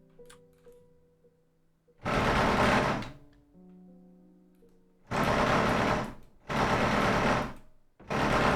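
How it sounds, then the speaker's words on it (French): A computer mouse rattles in rapid, loud, buzzy bursts during a game of Superliminal, with four close bursts of about a second each separated by faint game tones. "Vous entendez ma souris qui panique là?"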